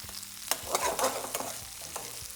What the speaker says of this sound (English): So the salt will just caramelize the onions and peppers